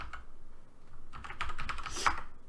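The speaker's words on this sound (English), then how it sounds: "Everybody mind the typing." A loud computer keyboard clatters with fast, uneven typing, close to the mic, in brief bursts that build to denser key strikes and a sharp final clack.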